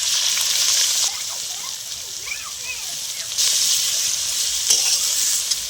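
Whole spices such as bay leaf sizzle in hot oil for chicken biryani, a steady broadband frying hiss with surges of louder crackle and small clinks and stirring scrapes throughout.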